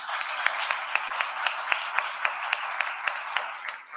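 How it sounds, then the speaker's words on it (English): An audience at the official opening of Islandpreneur Live 2023 claps steadily for a few seconds, with sharper individual claps standing out at a brisk, regular pace in a moderately distant room. "Give him a big round of applause."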